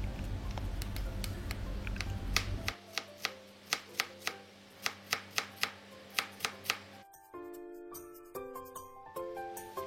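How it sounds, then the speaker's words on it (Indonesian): A sharp stainless knife chops carrots on a board in a run of about a dozen crisp, evenly spaced cuts, close and clear, followed by a few short musical tones. "Ada wortel, kemudian dipotong-potong dan diiris kecil-kecil."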